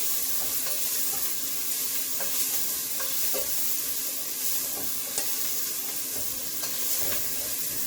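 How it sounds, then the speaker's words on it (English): Fish fries steadily in a pan over a low flame, a dense continuous sizzle with a few faint clicks of stirring throughout, close and even in level, with no voices. "Don't want to burn this fish. So we're gonna just fry it a little."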